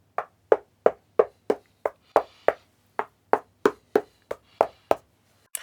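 Knuckles rap on the cabinet of a Mission 770 loudspeaker in about eighteen sharp, close knocks. They come in a steady rhythm, with a brief pause partway through, and each knock is short and dull, with no talking.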